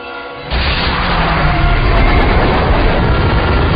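Roaring crash from the train wreck scene in the film Super 8, set in 1979: a sudden loud, dense rumbling burst of metal and rail noise that kicks in after a quiet moment and stays at full intensity throughout.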